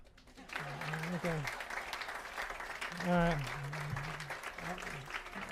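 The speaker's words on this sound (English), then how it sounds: "Clap." Audience clapping at a preschool grand opening in Louisville, a continuous spread of hands heard under someone speaking briefly over it.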